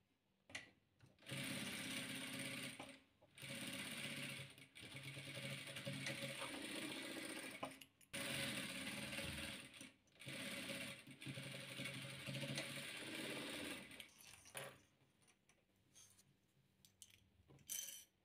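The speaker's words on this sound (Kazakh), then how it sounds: "15-15 2 қызылымызды, 2 ағымызды дәл мұндай қылып қосып тігеміз." A sewing machine stitches fabric patchwork squares in close, loud, rapid runs of mechanical whirring, broken by brief pauses between seams.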